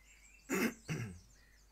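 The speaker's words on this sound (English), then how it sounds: "Excuse me for clearing my throat." Two short, rough throat clearings in quick succession, close and fairly quiet, with near silence before and after.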